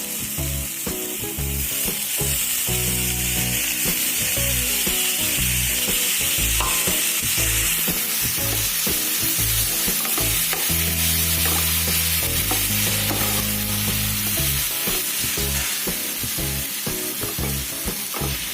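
Grated tomatoes hit a pan of sautéed onion and sizzle loudly and steadily, with a spoon scraping and stirring in irregular strokes close by, no voices.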